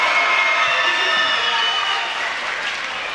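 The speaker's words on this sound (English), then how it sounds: "It's getting the crowd going a little bit." Crowd noise from spectators at a Stevens vs Kearsarge boys high school basketball game late in the fourth quarter, a steady loud wash of cheering and applause that eases slightly toward the end.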